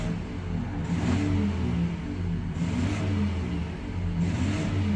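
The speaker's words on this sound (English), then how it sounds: "Give it a couple of light revs here." A 2021 Ford F-150 Raptor idles with its exhaust in quiet mode, giving a couple of light, muffled revs that swell and fall back to a steady low rumble, close by and with no talking.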